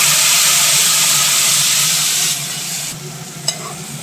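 Radish paratha filling fries in a pan with a splash of water, a loud steady sizzle and hiss that eases and thins toward the end, with a single short scrape of stirring near the close.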